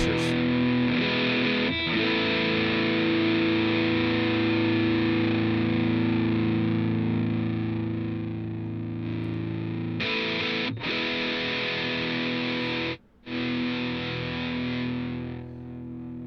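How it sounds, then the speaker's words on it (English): Electric guitar played through a distortion pedal in the Bias FX app, heavily distorted sustained chords ringing loud and even, with brief cutoffs near the end as the strings are muted and struck again. "But you might have to play around with those distortion pedals too,"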